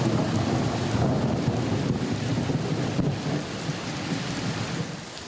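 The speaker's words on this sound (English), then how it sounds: "You can hear that thunder roaring, the trees blowing in the wind, and that heavy rain." Heavy rain and wind in trees near a studio in Kitchener during a late spring thunderstorm, a dense steady roar with rumbling thunder throughout, loud and continuous with no voices.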